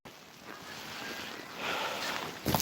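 Wind in a New York City snowstorm, a steady broadband rush that swells louder near the end with a sharp gust, with no voices over it.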